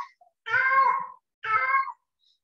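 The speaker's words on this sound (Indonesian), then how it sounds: "Ini ada suara kucing." A cat gives two clear, drawn-out meows close by, separated by a short pause, heard alone against silence.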